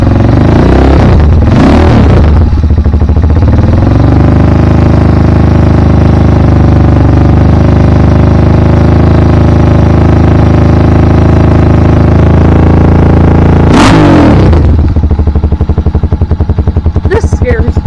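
A Honda Hawk 250 motorcycle engine runs close and loud after a carburetor and exhaust upgrade, holding a steady idle with brief sharp revs near the start and again toward the end as the mixture is adjusted.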